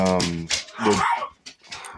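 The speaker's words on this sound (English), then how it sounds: "now the dogs are making noise." Dogs bark and yip in a quick burst, close by, with some voice-like sounds mixed in.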